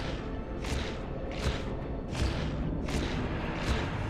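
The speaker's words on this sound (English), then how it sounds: "Speed Tier 1 will play a growling sound once you jump at" Growling jump sound for speed tier 1 in a wall-jumping video game, played at high jump speed: a rough, noisy burst repeating roughly every 0.7 seconds, five times over a steady background, loud and close with no talk.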